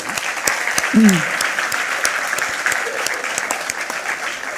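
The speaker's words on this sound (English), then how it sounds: "Let's give them a big round of applause" Big round of applause from the audience at a HeForShe United Nations event at BCIT, continuous many-handed clapping with sharp individual claps standing out and a short voice heard early on.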